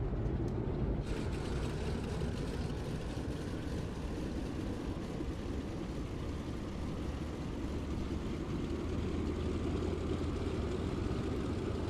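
A Curtiss C-46 Commando twin-engine transport drones steadily in flight in Microsoft Flight Simulator, a loud continuous low engine rumble with broadband wind noise that holds unchanged throughout.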